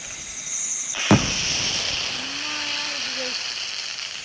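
A single sharp firecracker bang cracks out about a second in, loud and close, followed by a fizzing hiss and faint voices in the background.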